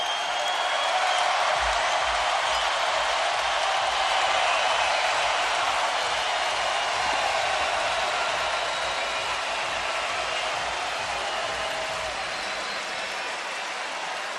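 A boxing arena crowd roars at the close of the Terence Crawford vs. Raymundo Beltran fight, a dense, steady wall of cheering and noise that stays loud throughout.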